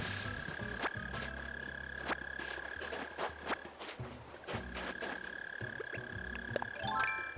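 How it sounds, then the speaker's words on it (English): A mole cricket outside a house by the street gives a steady, high buzzing trill that carries on a moderate distance away, with occasional nearby clicks and thumps. "There's like a noise that sounds like a mole cricket"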